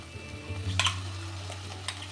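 Ground tomato paste goes into a pan of frying spice mix, bringing a sizzle with a few sharp crackling bursts over a steady low frying hiss.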